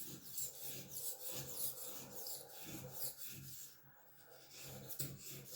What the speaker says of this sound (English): you just keep working yourself up from the fine or rough grit up to the fine grit